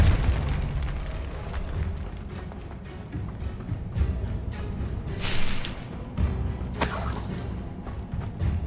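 The Depulso force spell is cast in Hogwarts Legacy, producing a booming magical burst with scattered pops and a couple of bright whooshing flares over a rumbling game background.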